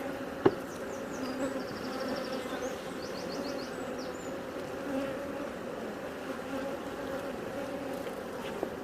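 Honey bees buzzing steadily around an opened hive during an inspection of a very large colony, a dense continuous drone with occasional louder passes of individual bees close by.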